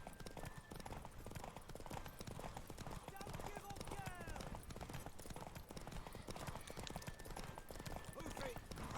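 Horse hooves clip-clop steadily in the game The Witches 3, a quick continuous rhythm of galloping hoofbeats with a brief whinny, mixed with game music and someone talking over it.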